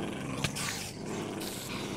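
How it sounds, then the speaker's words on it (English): A Minecraft dog growls and snarls amid a busy, noisy game mix, with one sharp yelp or hit near the start and a continuous dense rumble throughout; no one speaks. "Oh, I nearly hit that dog."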